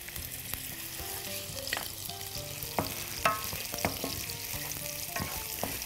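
Chopped onion and garlic sizzle in hot oil, a bright crackle with scattered pops, plus clinks and scrapes of a utensil stirring the pan.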